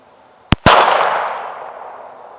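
A Walther P38 pistol fires two close shots in quick succession, sharp and loud, each followed by a long ringing decay that fades over about two seconds.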